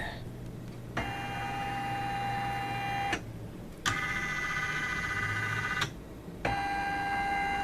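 An MB4 embroidery machine with a J hoop hums and whirs as it traces the design outline, a steady mechanical drone with a high tone that stops and restarts several times, close and continuous.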